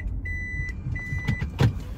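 Interior of a 2008 Toyota Prius on a test drive, with low road and cabin rumble throughout, a steady high whine from the electric drive and a couple of brief knocks or bumps near the end.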